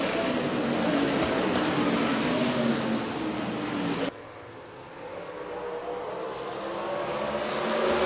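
USAC Silver Crown race cars racing in the Hoosier 100 at the Indy Mile, a loud, sustained engine roar that cuts abruptly to a quieter, more distant drone that slowly builds again.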